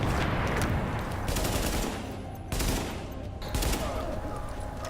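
Sustained automatic gunfire in The Division video game, dense and loud rapid shots rattling continuously throughout with brief shifts in intensity.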